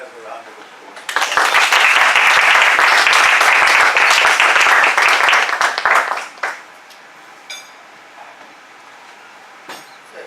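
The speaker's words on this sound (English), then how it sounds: "could you just give the role players a round of applause?" An audience breaks into loud, sustained applause for role players at a meeting, a dense wash of clapping lasting about five seconds before it fades to a few scattered claps and quiet room sound.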